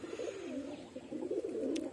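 A Machiya pigeon coos softly nearby, a low, throaty warble repeating in a steady rolling pattern.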